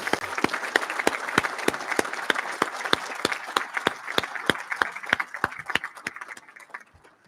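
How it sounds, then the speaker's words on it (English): At a Boston Fire Department recruits graduation ceremony, an audience claps for the Boston Fire Academy instructors with sharp, distinct, evenly spaced claps that stand out clearly before tapering off at the end. "give a round of applause to our instructors from the Boston Fire Academy"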